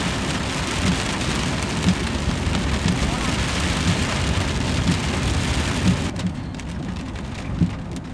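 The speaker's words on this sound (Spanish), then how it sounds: "Si pueden ver, está lloviendo rápido" A sudden heavy tropical downpour pours steadily onto trees and surfaces outdoors, a loud, dense, unbroken hiss of rain close by.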